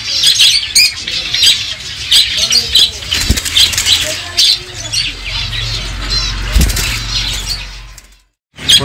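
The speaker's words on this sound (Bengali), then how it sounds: "খুব ভালো হেলদি বদ্রি পাখি।" Budgerigars in a crowded bird shop flap their wings and squawk continuously and loudly, with rapid fluttering bursts and dense chirping up close until a sudden brief drop near the end.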